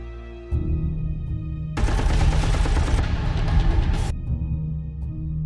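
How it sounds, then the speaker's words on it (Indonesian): A loud, sustained burst of rapid automatic gunfire in an action film shootout during an armored money-truck hijacking erupts over a low droning background, lasting a couple of seconds before cutting off. "Tiba-tiba terdengar suara tembakan"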